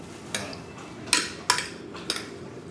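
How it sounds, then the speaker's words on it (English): A spoon stirring minced garlic, seasonings and oils together in a bowl, giving four or five separate clinks and scrapes against the side, close and fairly quiet, with no talking. "Now we're gonna stir everything together."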